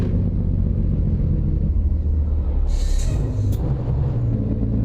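Heavy truck engine in American Truck Simulator rumbling loudly and continuously, a deep steady drone with a short hiss of air partway through and no talking.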